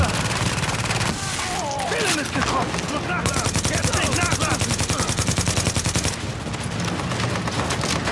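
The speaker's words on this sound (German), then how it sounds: "Hätte man zwischendurch Pause machen sollen beim Schießen." Sustained automatic gunfire from The Division, a run of rapid shots in dense bursts that carries on for several seconds, loud and close, with overlapping battle noise and brief gaps between volleys.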